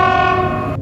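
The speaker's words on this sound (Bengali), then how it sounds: "রাতের শেষ ট্রেনটাও চলে যায়।" A cartoon train sound effect: a steady, sustained horn-like tone with rumbling clatter underneath, loud and close, cutting off abruptly after under a second.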